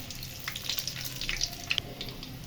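Whole cardamom, garlic cloves and five-spice seeds sizzle in hot oil for an olive pickle, a steady close crackle with scattered sharp pops and no voices.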